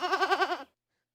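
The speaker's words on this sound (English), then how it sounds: "you guys hear that goat?" A goat lets out a single loud, close bleat with a quavering, pulsing vibrato, about half a second long, then cuts off into silence.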